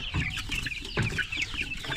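Laying hens on a farm cluck and squawk in a busy, overlapping chorus, close by and fairly loud, with a sharper burst of calls midway through.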